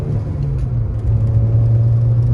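A turbocharged Suzuki Swift ZC31S pulls away hard, its engine holding a steady, rising drone with low rumble and a faint whir, close and loud with no talk.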